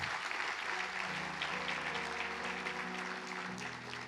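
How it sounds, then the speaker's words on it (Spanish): A church congregation applauds during a sermon, a sustained dense wash of clapping from a large crowd, fairly distant and even, with faint music or voices humming underneath. "Apláudele fuerte al Señor si le vas a aplaudir."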